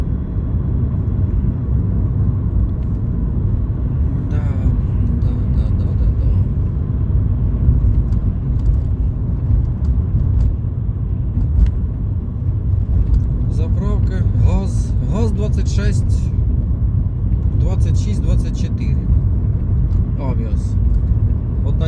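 Busy city road traffic in Dnipro: many cars rumble past steadily in a continuous low drone. A person talks over the traffic throughout.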